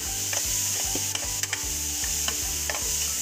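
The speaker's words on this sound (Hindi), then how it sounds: "और हल्का सा सोटे करेंगे इसे" Chopped capsicum and onion sautéing in a pan for a soya chunk salad: a soft continuous sizzle with a spatula scraping and stirring in a regular rhythm, several strokes per second, close and without voices.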